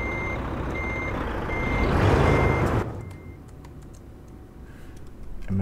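A truck backs up in a Christmas winter event of a driving video game, its reversing alarm beeping steadily over a loud engine rumble that drops away partway, leaving the beeps and scattered clicks.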